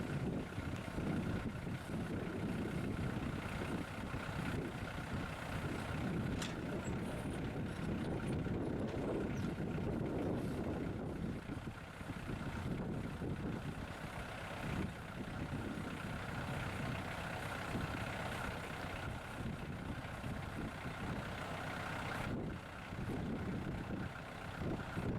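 A tractor drives a Daken post hole digger auger into the ground, its diesel engine droning loud and steady throughout with some rough churning as the auger bores and lifts spoil.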